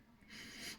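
A voice imitates a mother dragon sniffing, drawing one long, breathy inhale that swells over less than a second, close and soft.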